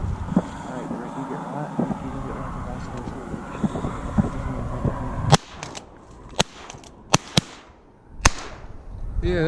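Shotgun blasts during a duck hunt over a flooded milo field, several sharp loud reports after a stretch of wind noise and low rumble, with people talking in the background.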